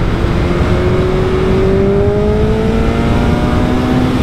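A BMW S1000RR sport motorcycle with its rev limit removed and a loud exhaust revs hard and steadily. The close engine tone climbs smoothly throughout, loud and continuous, with no talking.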